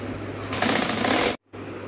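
A sewing machine stitches a curtain hem in a fast, close, steady whir that briefly cuts out and then resumes.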